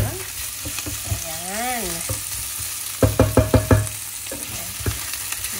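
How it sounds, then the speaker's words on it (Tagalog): Pork sizzles and fries in a pan during stir-frying for pork adobo, a steady loud hiss broken by several quick metal scraping taps. A voice briefly says a short word. "Gisa-gisa lang natin ng konti"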